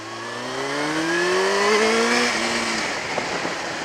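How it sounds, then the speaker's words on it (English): A restricted A2-licence motorcycle accelerates hard under heavy throttle, its engine pitch climbing steadily through the revs before easing off, fairly close and without talk. "I got a bit too trigger happy with the throttle there"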